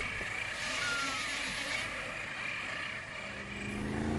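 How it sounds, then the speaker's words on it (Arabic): A small motorboat in Oman drones steadily in the distance, its engine a continuous mid-pitched hum over a broad wash of background noise, with no voices. "يتراءى من بعيد قارب صغير"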